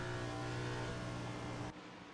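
A race car engine roars steadily in a racing video game, a loud sustained drone with strong harmonic tones that drops off abruptly near the end, with no talking.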